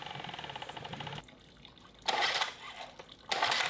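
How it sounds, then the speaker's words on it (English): A strong water stream gushes from the side outlet of a boat motor fitted with a new water pump impeller, coming in loud bursts over a steadier engine hum. "a nice strong water stream coming out of the side of the motor there"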